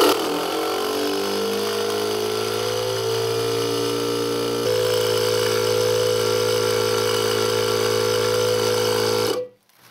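A small 12-volt air pump powered from a car cigarette lighter socket runs with a loud, steady droning buzz while pressurizing a household water pump station, its pitch shifting slightly midway before it cuts off abruptly near the end.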